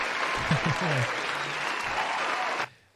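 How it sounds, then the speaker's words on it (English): Dense applause from a group of people during an art challenge session, steady clapping with a brief voice underneath, cutting off abruptly near the end. "Well, another round of applause for you, Juan."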